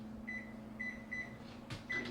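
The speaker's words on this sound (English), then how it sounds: "depending on the power of your microwave, usually it's like 2 to 3 minutes." A microwave oven runs while cooking scrambled eggs, giving a steady low hum with faint intermittent high tones and a brief clunk near the end; no one speaks.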